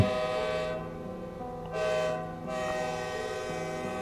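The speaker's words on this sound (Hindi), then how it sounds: "तभी अचानक से ट्रेन की सीटी की आवाज फिर से गूंजी" The Alaknanda Express sounds its train whistle at a station platform: a loud, sustained tonal blast with a rich stack of harmonics that dips briefly, swells again, then carries on steadily to the end, with no talking.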